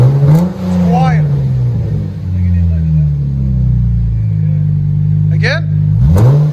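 A Dodge Charger 3.6L V6 with an aftermarket exhaust setup holds a deep, steady drone. Short revs rise and fall near the start and the end, and people talk over it.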